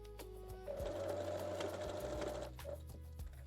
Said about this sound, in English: backstitch the lace upper cup top